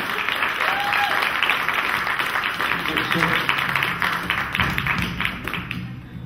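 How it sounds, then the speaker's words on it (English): A room full of people breaks into applause, a steady patter of many hands clapping at close range, holding level for several seconds before easing slightly at the end. "give Rich a nice round of applause"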